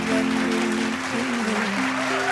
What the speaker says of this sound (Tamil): இப்போ நம்ம கொடுக்கிற கைத்தட்டல் ரொம்ப ரொம்ப முக்கியம்